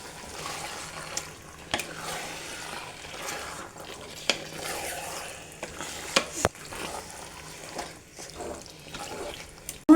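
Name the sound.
chicken being stir-fried for biryani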